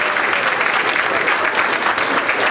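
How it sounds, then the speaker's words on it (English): A large audience at a school board meeting applauds loudly and continuously, a dense wash of clapping with faint voices mixed in. "One more round of applause for everyone who is celebrating tonight."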